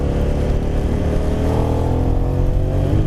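A motorcycle engine droning steadily and loudly while riding through poor conditions, with a constant low rumble and wind-like roar and no break.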